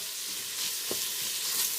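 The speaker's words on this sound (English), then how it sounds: "Nothing smells better than bacon cooking" Bacon and celery sizzle and fry in a pressure cooker pot with a steady, loud, close hiss, crackling throughout and lightly stirred, with no talk over it.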